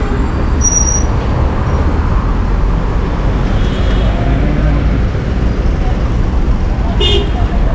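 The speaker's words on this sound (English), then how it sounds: "You can even see car, you know, passing." Steady road traffic seen from afar near the tallest building in Zambia, on a road that is always congested, with cars passing in a continuous loud rumble and a faint horn toot near the end.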